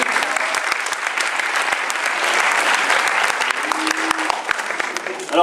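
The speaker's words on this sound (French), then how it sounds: "On peut applaudir." A crowd at a hip hop dance contest applauds with dense, continuous clapping that carries sharp individual claps through it, and a voice briefly talks under the applause partway through.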